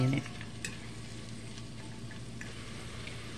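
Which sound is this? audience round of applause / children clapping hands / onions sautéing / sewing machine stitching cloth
onions sautéing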